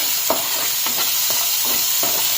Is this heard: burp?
no